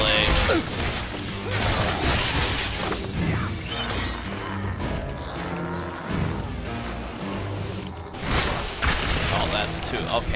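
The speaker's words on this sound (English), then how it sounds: "Okay, that's the corpse explosion." A corpse explosion in the video game Shadow Warrior 2 bursts amid a dense clatter of crashing, shattering and gunfire-like blasts, loud and continuous over several seconds.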